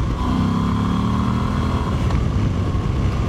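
A Moto Guzzi V85TT mid-size trail motorcycle runs under way, its engine a loud, steady drone with a low throb and a slight rise in pitch, wind noise mixed in.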